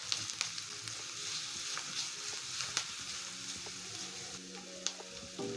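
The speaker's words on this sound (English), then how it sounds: "So next I'll be adding garlic. Stir in the garlic." Garlic sizzling in a pan of beans and rice stir fry as it is stirred, a steady close frying hiss with occasional sharp crackles and the scrape of stirring.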